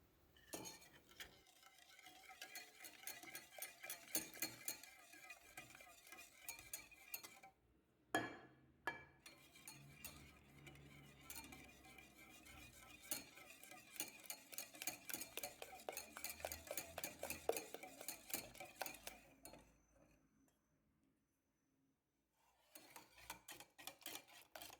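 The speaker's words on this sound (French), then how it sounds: "commencez à l'incorporer activement tout en fouettant" Melted chocolate being whisked in a bowl for a chocolate fondant, a busy run of quick whisk strokes clinking against the bowl, pausing briefly around the middle and dropping away near the end before resuming.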